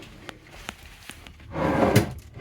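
A hotel room drawer in Antalya, Turkey, slid open and shut, a few light knocks followed by a louder wooden sliding rumble ending in a thud, close and alone.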